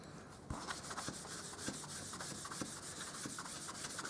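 An embossing buddy is rubbed over stamping paper in close, steady back-and-forth strokes, a soft dry scuffing that repeats rhythmically for several seconds with no talking.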